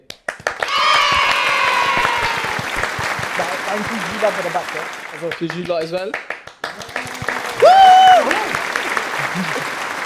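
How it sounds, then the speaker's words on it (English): A small studio audience on a podcast episode claps for a guest while the host keeps talking loudly over it, the clapping rising and thinning between bursts of voice and a sung phrase. "Everyone give a round of applause for TJ."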